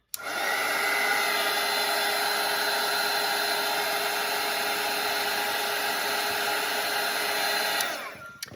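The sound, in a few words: hair dryer drying watercolour painting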